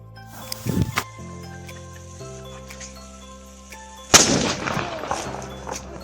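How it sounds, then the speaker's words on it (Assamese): Firecrackers burst at midnight on New Year's with sharp bangs, one near the start and a louder crackling blast later, over a faint steady background hum. "বোমাৰ মাৰি লাইটাৰেৰে শেষ কৰি পেলালোঁ"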